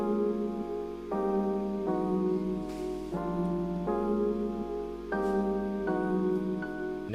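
A beat melody with a lead line layered over a lower synth and piano, steady chord changes every second or so, loud and continuous with no voices.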